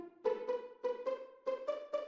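Roland SRX Orchestra strings preset in a dark, melodic phrase: six bowed swells in pairs with clear harmonic layers, loud and close, no voices.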